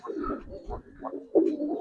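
Pigeons of giribaz and coloured breeds at a market, with low, throaty cooing in soft repeated bursts, close by and mixed with faint background voices.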